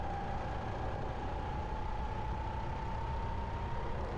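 Rental go-kart engines drone steadily through a race, a continuous buzzing hum with a faint rising whine as several karts run close together, no voices over it.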